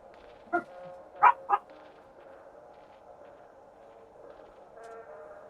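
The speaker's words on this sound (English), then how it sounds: "the dogs are also making all kinds of racket" Several dogs bark indoors in short bursts, a few sharp barks close together near the start, then lower rumbling noise with faint yips.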